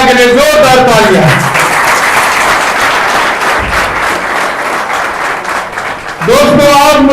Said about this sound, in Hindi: और एक बार पूरे गांव पतला के लिए जोरदार तालियां।